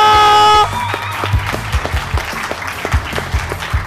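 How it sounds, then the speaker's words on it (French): Scattered audience applause at the close of an event, following a sustained tonal chord, with distinct claps and a soft crowd murmur spread across a moderately sized room. "Un tonnerre d'applaudissements!"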